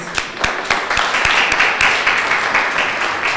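Audience applause at a Cape Verdean Association Martin Luther King Jr. Day celebration, loud, dense clapping from a room full of people, with sharper individual claps standing out throughout.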